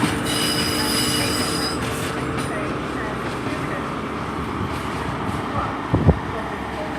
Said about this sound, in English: now off goes 43164 to London Paddington, starting here